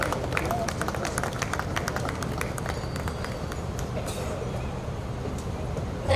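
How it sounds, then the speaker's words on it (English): An audience at an anniversary function applauds to welcome a guest, a sustained patter of many hands clapping at moderate distance, steady and even throughout. "Let's have a huge round of applause"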